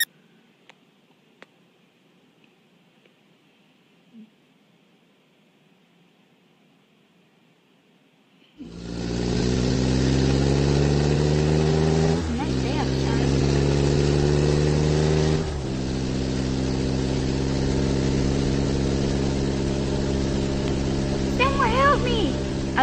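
A car engine in The Amazing Spider-Man video game starts after a long near-silence, then runs loudly and steadily at a low idle hum with a couple of brief shifts in pitch.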